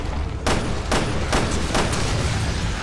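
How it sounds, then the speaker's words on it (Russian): A series of loud booming blasts over dense, continuous noise in Resident Evil Revelations 2, several sharp explosions in quick succession without any talking. "Взрыв произошел"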